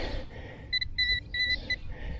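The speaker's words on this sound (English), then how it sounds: "when you hear this, that beep, beep, beep, beep, beep, it's telling you it's a ferrous target" A series of about five short electronic beeps from a metal detector signalling a ferrous target, evenly spaced and moderately loud over a low background rumble.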